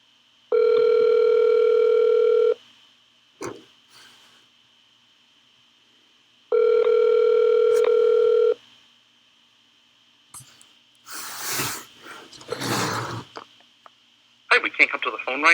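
Two long, steady ringback tones on an outgoing telephone call, each about two seconds with a pause between, clear and alone, then a brief burst of noise and an answering machine greeting.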